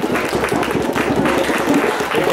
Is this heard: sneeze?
no